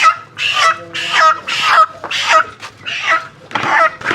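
Chickens at a village chicken shop in Telangana give loud, close, repeated squawking clucks in short bursts separated by brief pauses, with no speech over them.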